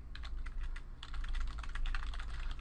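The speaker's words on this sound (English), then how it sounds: "I'm just typing stuff in here so you can see that." Computer keyboard typed on steadily, a close, continuous patter of quick key clicks with brief pauses over a low background hum.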